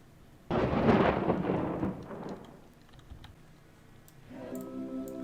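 A thunderstorm in the video game WorldBox opens with a sudden rolling rumble of thunder that fades over a couple of seconds, followed by light ticking and a soft tonal game chime near the end.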